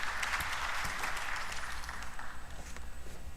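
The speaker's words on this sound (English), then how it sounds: "So let us welcome him with a big round of applause." An audience applauds a speaker at a policy announcement event, dense steady clapping heard from a distance at modest volume, thinning slightly toward the end.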